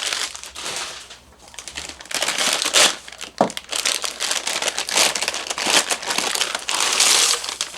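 Dry food pieces from two plastic bags crinkle and rustle continuously as they are poured into a cooking pot of chicken and dumplings, loud and close with bursts of crushing crackle throughout.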